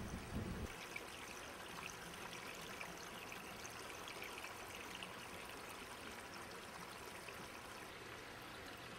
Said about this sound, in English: Once the water hits the grate on the first tray, it spreads out evenly